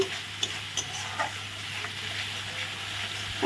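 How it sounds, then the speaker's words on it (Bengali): Spices with salt and turmeric sauté in a pan, giving a soft, steady sizzle with a few light stirring clinks, fairly quiet and with no talking. "হলুদ সব মশলা দিয়ে ভালো করে আগে কষিয়ে নেব"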